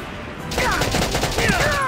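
A sharp burst of rapid gunfire from the video game Valkyria Chronicles on Switch, loud and close, breaking in after a brief quiet moment and ringing on to the end.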